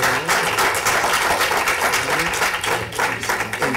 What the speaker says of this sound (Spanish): Y un aplauso